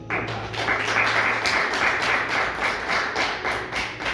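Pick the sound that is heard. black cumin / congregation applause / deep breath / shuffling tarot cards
congregation applause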